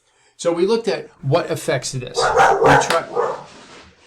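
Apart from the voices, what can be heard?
dog barking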